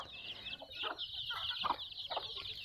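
Local country chickens kept by a woman farmer cluck in a few soft, irregular bursts, quiet and somewhat distant, with a steady faint high-pitched insect-like hiss behind and no talking.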